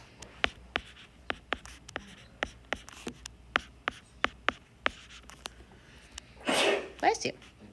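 A single sharp sneeze bursts out near the end, following a steady run of faint tapping or writing strokes.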